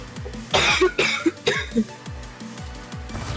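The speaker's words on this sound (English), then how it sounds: "I apologize for the coughing, I really do." A man coughs repeatedly during a live game stream after recently recovering from pneumonia, a cluster of four or five harsh, close coughs in quick succession, followed by quieter throat noises.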